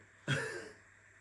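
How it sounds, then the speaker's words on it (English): Child coughing once, a short sharp close cough that fades quickly into a quiet room. "our kids are sleeping and you can hear them coughing probably in the background"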